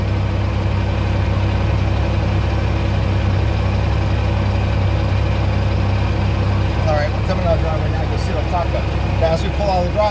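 The engine of a 2016 Yamaha YXZ1000R side-by-side UTV idles steadily and close by, a constant low rumble, with a person talking over it toward the end.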